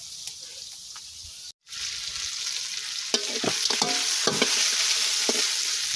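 Fish frying in a pan for a village curry with cauliflower, a steady sizzle with scattered scraping stirs and clinks, close and moderately loud, with one brief dropout.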